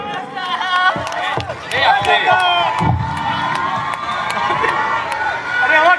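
A live fan crowd at an Asansol event for the actor Dev claps and cheers, with scattered sharp claps over loud shouting and whooping voices that keep going without a break.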